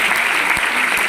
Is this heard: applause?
yes